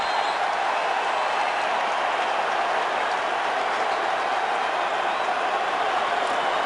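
Loud, steady roar of the crowd at an NFL playoff game, the Packers at the Falcons in the 2010 NFC Divisional round, a dense wash of cheering with no break for the whole stretch.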